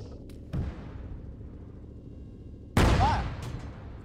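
In the battlefield game Iron Front, a muffled distant shot is followed by a much louder, heavy artillery-like boom that rolls and decays over about a second.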